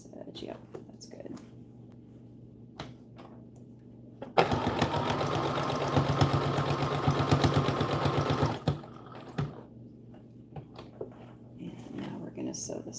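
Sewing machine stitching the side seam of a McCall's American Girl doll dress, a fast steady burst of stitching for about four seconds between quieter handling noises.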